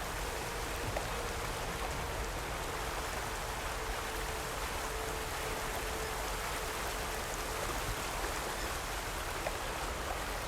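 Water churns steadily in a plunge pool in Horizon Forbidden West, a constant near, even wash of splashing and rushing with no voices.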